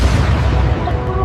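A deep, dense rumbling roar like a low explosion, loud and sustained throughout without letting up, a boom standing in for the Big Bang.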